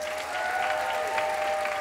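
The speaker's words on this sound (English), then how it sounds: "Once again, huge round of applause" Audience applauding musicians at a winter gala concert, a short burst of continuous clapping with a faint sustained tone lingering underneath.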